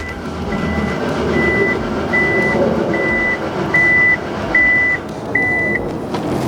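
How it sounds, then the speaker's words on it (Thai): A 2020 Toyota Fortuner Legender 2.8 4WD's electric power tailgate gives seven evenly spaced, clear electronic beeps over a low, steady mechanical hum. "ด้านหลังคันนี้นะครับได้เป็นฝาท้ายแบบไฟฟ้ามา"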